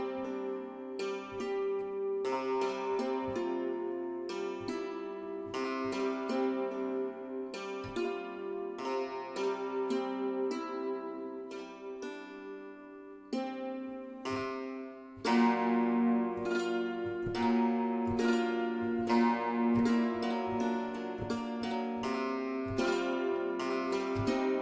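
A felted version of a sampled instrument from a software sound library plays a soft, muffled melodic passage with sustained chords and rhythmic note attacks, continuous and fairly loud with no talk.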